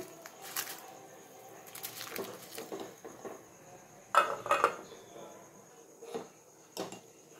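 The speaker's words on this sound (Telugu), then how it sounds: "మనం నానబెట్టుకున్న బాసుమతి రైస్ వేస్తున్నాను." Soaked basmati rice goes into a pot while cooking chicken dum biryani, giving a few soft scattered clatters and wet rustles that are close and quiet, with a sharper cluster of knocks partway through.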